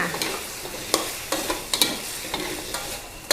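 Sliced zucchini and carrot are stir-fried in a pan with a splash of water, a busy close sizzle broken by repeated sharp scrapes and taps of a spatula in quick, uneven rhythm, with no talking.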